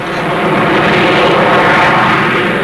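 The American X-15 space plane, carried aloft by a B-52, in flight in 1961 newsreel footage: a loud, continuous roaring aircraft drone that swells slightly mid-way and holds steady, with no voices.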